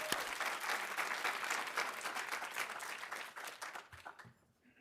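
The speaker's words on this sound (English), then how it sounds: "Yes, round of applause." Sustained applause from an audience at the Arts at Dartmouth awards ceremony, dense clapping fairly close that tapers off toward the end.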